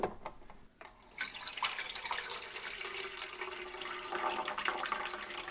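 After a brief pause, water pours steadily and splashes into the reservoir of a Keurig K Mini Plus coffee maker for several seconds, close by.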